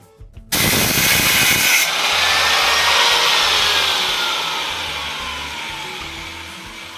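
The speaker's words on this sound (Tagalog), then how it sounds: "Gagamit tayo ng grinder para makat natin to." Angle grinder cutting scrap metal for a rabbit cage, starting abruptly with a loud, harsh, sustained high whine and rasp close up that slowly eases off over several seconds, with no talking.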